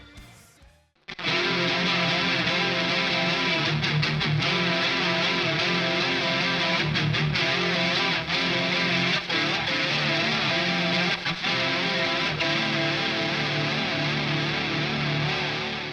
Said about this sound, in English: So this is my like high gain shoegazy effects.